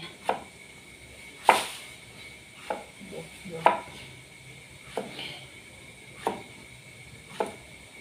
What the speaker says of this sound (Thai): เราจะหั่นบด